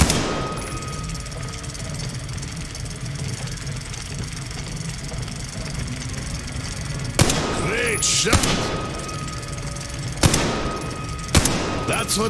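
Target-shooting gunfire in a video game: a handful of sharp, isolated shots arrive in the second half, spaced a second or two apart, over a steady low rumbling background.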